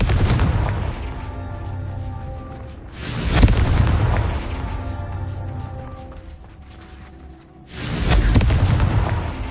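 Deep, booming blasts from a Confringo spell in a Harry Potter video game, with two heavy explosions several seconds apart over a rumbling low background.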